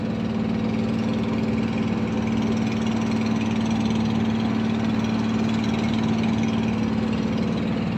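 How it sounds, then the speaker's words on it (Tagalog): A single three-piston motor on a boat runs steadily, a loud, close, continuous droning hum with a strong low tone and no talk over it. "Yan, isang makina lang guys, pero mabilis na din"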